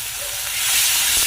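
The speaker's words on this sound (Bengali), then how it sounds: "চলো দিয়ে দিচ্ছি আদা বাটা, আর দিলাম রসুন বাটা।" Ginger and garlic paste hits hot oil while a lote fish dish cooks, giving a steady, loud, close sizzling hiss with no other sound.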